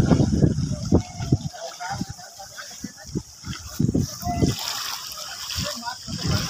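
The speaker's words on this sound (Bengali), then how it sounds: "এই যে নৌকা চলছে দেখছেন আমাদের সমুদ্র।" A fishing boat moves through flood water during the 2023 flood in Dakshin Dinajpur, West Bengal, with repeated close splashes and sloshing in an uneven rhythm, while a voice talks over it and water-bird calls mix in.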